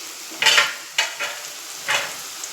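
Homemade potato finger chips frying in hot oil crackle and sizzle in three or four short, close bursts as pieces are stirred or dropped in, with a soft hiss between them.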